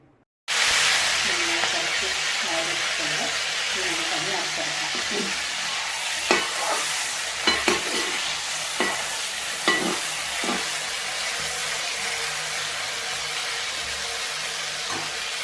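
Beef for pickle sizzles in a pan while being stirred. The loud, even frying hiss is broken by sharp clattering scrapes of the spoon in the middle stretch.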